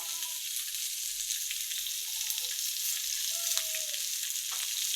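Fish frying in a pan gives a constant, close sizzle and crackle with a few small pops. Faint tonal sounds come and go underneath.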